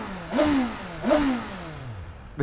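A 2025 BMW S1000RR sport motorcycle engine revs twice in quick succession, each blip rising sharply and falling back toward a low idle, heard close with no talking.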